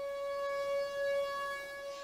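A civil defense siren warning of a tornado in the American South wails as a steady, sustained tone, distant and moderately loud, with no voices.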